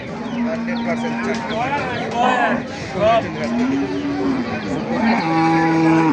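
A dairy cow at the Sonaichandi cattle market lows several times in long, drawn-out moos, near and clear, amid crowd chatter and people talking nearby.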